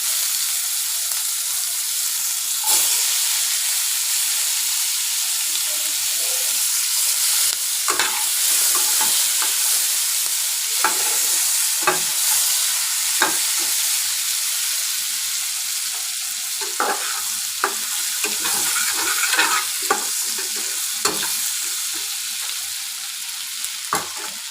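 Onions frying in hot oil with whole spices for a desi-style prawn curry, a steady sizzle running throughout with repeated scrapes and clicks of stirring, close and alone without any talking.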